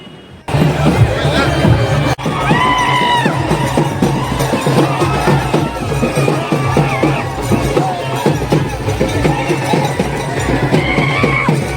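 A loud, jubilant crowd fills a Ganesh arrival procession in Kolhapur, with steady pounding percussion beneath shouting and chatter and occasional high tones rising over the din.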